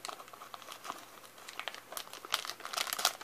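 A Japanese Pokemon Jungle set card pack's foil wrapper being torn open, crisp crinkling and ripping in short uneven bursts, close and fairly quiet, growing sharper toward the end.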